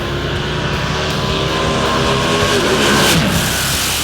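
A supercharged Outlaw 71 drag racing car with a big blower on top of the engine roars loud and close at a New Zealand quarter-mile event, a sustained heavy mechanical drone that swells slightly toward the end.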